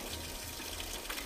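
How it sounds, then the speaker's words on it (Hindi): A mountain stream below a hill village flows in a steady, dense rush of water, close and continuous with no pauses. "तो ये है हमारे गांव का गदेरा"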